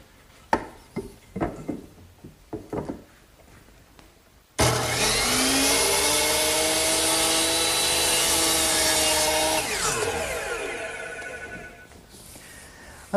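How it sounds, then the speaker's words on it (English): A power miter saw cuts through wood for mitered corner joints on a garden bench, a loud sustained whine that spins up sharply after a few quiet knocks, holds steady for about five seconds, then winds down. "So I'm going to use my power miter box to make that cut."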